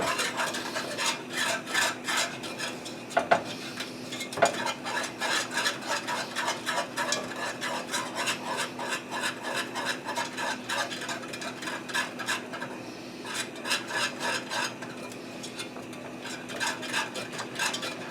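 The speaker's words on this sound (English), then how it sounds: "Now I want to keep whisking this until it thickens up some." A whisk scrapes rhythmically through chocolate banana pudding in a pot, steady rasping strokes repeating throughout, close and unaccompanied apart from a couple of sharp clinks against the pot.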